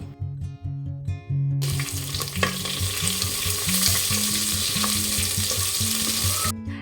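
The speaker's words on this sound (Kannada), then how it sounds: "ಈರುಳ್ಳಿಯನ್ನು ಹಾಕಿ ಚೆನ್ನಾಗಿ ಫ್ರೈ ಮಾಡ್ಕೊಳ್ತಾ ಇದ್ದೀನಿ" Onions fry in hot oil tempered with mustard seeds, cumin and urad dal, a loud steady sizzle that starts abruptly after a quieter opening and holds throughout, with occasional stirring scrapes and clinks.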